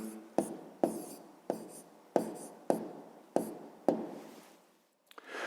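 Pen or pencil writing on paper while a math answer is written down: seven distinct scratchy strokes, each a sharp onset fading away, in a steady close rhythm with no talking.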